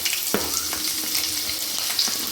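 Sliced onions frying in oil in a pan for tomato fish curry, a loud continuous sizzle broken by a few sharp stirring knocks and scrapes close by.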